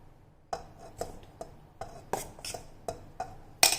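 Eggless tutti frutti cake batter is mixed slowly by hand in a bowl, giving soft, quiet, irregular scraping taps and clinks about every half second.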